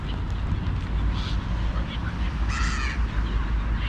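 Seagulls call outdoors over steady wind rumble and low background noise, with scattered cries and a clearer burst of calls about two-thirds of the way through.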